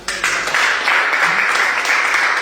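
Church congregation applauding for God during a sermon, a loud, continuous roll of clapping across the whole span, with faint voices beneath.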